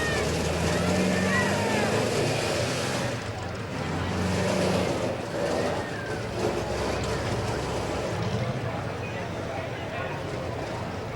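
A Jeep Wrangler tough truck roars through a competition lap at a night event, its engine rising and falling loudly over the run, with an announcer talking over it.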